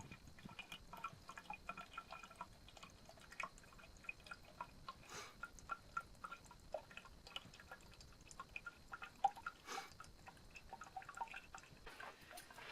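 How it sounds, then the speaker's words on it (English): Water from laundry waste drips through a DIY sand filter with charcoal, faint irregular drips and small splashes ticking over a quiet background. "And that's finished dripping."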